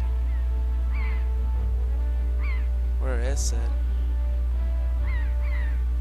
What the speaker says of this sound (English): I hate it when the seagulls start following me